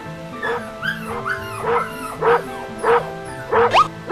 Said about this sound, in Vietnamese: Con chó của gã hàng xóm